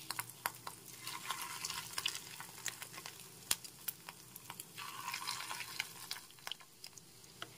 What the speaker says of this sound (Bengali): এখন আমি বড়াগুলো ভেজে নিচ্ছি।